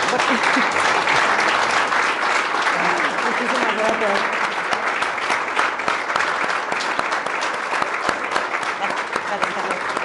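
Audience at a literature festival in Lanzarote applauding the author Aixa de la Cruz: dense, steady clapping filling the room throughout, with a brief spoken thank-you near the start over the applause.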